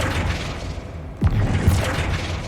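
Flipendo spell cast in the video game Hogwarts Legacy, a single deep whooshing boom that hits mid-clip over dense game background noise.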